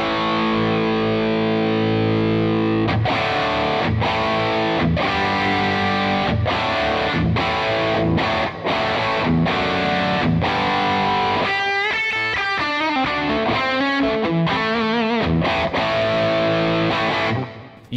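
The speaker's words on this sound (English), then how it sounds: "I really would consider this to be my favorite overdrive pedal of all time" A Les Paul electric guitar runs through a ThorpyFX Peacekeeper overdrive pedal, playing loud, thick, driven chords with sustained ringing notes, then a flurry of fast picked lines near the end, close and without any talking.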